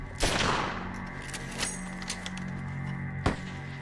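Rifle shots at German soldiers at the Somme crack out loud and sharp, a few spaced reports with ringing echo, set against a low battlefield drone.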